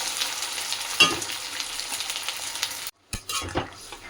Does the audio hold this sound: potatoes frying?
yes